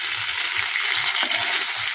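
Small brinjal pieces fry in hot oil with a dense, continuous sizzle, close and steady, with faint low knocks of stirring.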